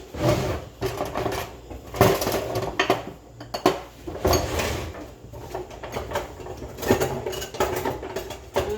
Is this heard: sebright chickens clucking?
no